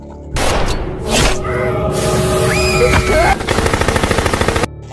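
Loud gunfire in a tense action scene from the film Blur mixes with music and effects. A dense burst of shots leads into a steady run of rapid automatic fire that ends abruptly.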